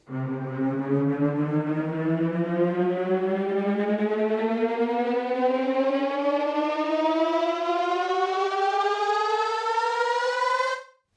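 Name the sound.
synth riser pitch bend climbing two octaves in Logic Pro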